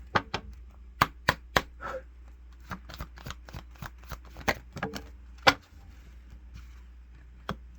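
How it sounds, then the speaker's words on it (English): Cards being shuffled and riffled by hand, a series of sharp crisp snaps and flutters spaced irregularly, close and otherwise quiet. "One more shuffle."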